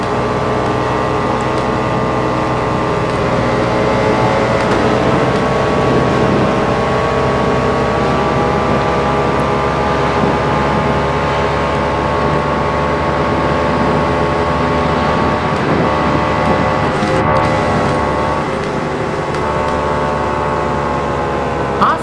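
A Harley motorcycle engine races on a drag track, a loud, sustained droning roar with steady low harmonics that holds nearly unchanged for the full run, with no voices.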